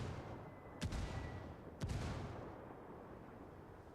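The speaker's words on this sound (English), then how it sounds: "Dropping another mortar on Radio 1." Two distant mortar impacts land in the Ghost War video game, about a second apart, each a dull broadband thud with a short rumbling tail over steady low battlefield ambience.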